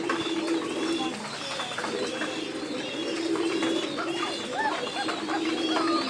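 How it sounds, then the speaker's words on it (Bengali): Pigeons feeding on a grit mix of salt, eggshell, bone meal and shell powder coo softly in repeated low phrases, mixed with light chirps and background rustling. "দেখেন আমার কবুতর খাচ্ছে"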